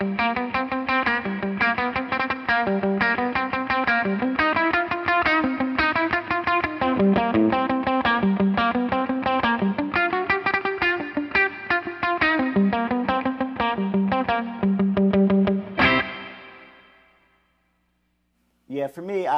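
An electric guitar, a G&L ASAT Classic through a Fender Bassbreaker 15 amp, plays a fast, driving surf riff soaked in plate reverb, ending on a ringing chord that decays, then a brief noise.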